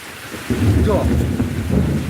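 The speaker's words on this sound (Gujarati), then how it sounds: "ફરી કડાકો થયો જો અહીં તો એવા કડાકા થાય એવા કડાકા થાય છે" A thunderclap rolls out over the steady roar of heavy rain in Anand, a deep, loud rumble starting halfway through and carrying to the end.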